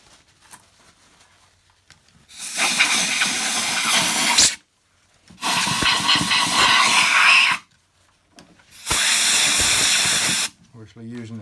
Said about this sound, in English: Just give those a quick clean. It's good to use an airline.